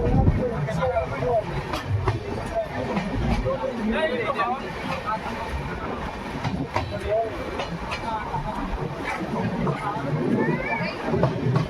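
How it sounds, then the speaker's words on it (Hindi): The 22977 Jaipur Jodhpur High Court SF Express pulls out of Gotan railway station after a two-minute halt. Its rumble and rhythmic clickety-clack of wagons carry on under passenger chatter. "तो 2 मिनट के स्टॉपेज के बाद ट्रेन डिपार्चर हो रही है गोटन रेलवे स्टेशन से"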